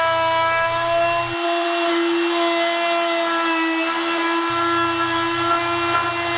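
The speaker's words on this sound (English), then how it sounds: "here I am just using my palm router" A palm router rounds over the edge of an outfeed tabletop, a steady high-pitched motor whine with bright harmonic tones running continuously and loud throughout, its low hum dropping away briefly in the middle.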